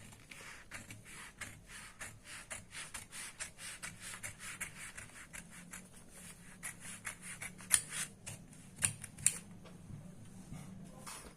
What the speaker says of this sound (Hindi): देखिए अब हम इसे काट लेते हैं।